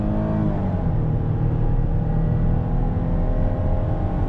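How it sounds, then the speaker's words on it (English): A 2021 Chrysler Pacifica Pinnacle minivan with a 9-speed transmission accelerates under throttle, its steady engine drone and road noise filling the cabin loudly and continuously without a clear break. "little acceleration test."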